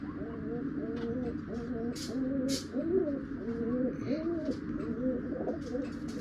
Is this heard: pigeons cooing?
yes